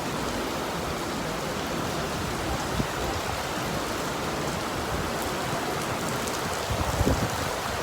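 Steady rain falls outside an airport terminal, a dense, even hiss that stays loud and constant throughout, with a few slightly louder patters near the end and no talking.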